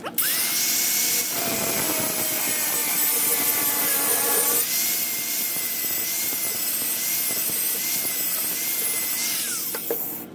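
An electric drill with a number 21 bit, set to low torque in first gear, bores into a 3/8 bolt double-nutted and clamped to a bench, giving a steady, close whine and grinding for about ten seconds.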